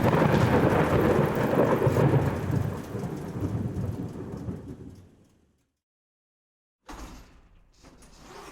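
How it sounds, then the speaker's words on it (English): Heavy rain pours with deep rumbling thunder, loud and steady for several seconds, then fades into a brief silence before the rain noise returns. "I can't help but notice that it has started to rain"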